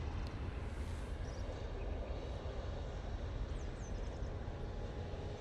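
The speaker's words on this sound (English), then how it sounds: "Ryanair 737 MAX 8 departing." A Ryanair Boeing 737 MAX 8 jet departs Manchester Airport, a steady, broad roar of jet engines that holds even and fairly loud without letting up.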